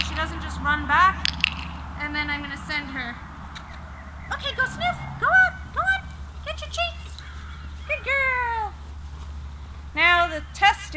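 A dog eats treats during a recall training game, with wet squishy chewing and snuffling close by, interrupted by bright high voices talking and praising.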